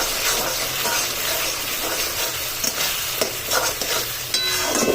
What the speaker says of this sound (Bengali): এবারে যে পেস্টটা বেটে রেখেছিলাম সেই পেস্টটা দিয়ে ভালোভাবে কষাবো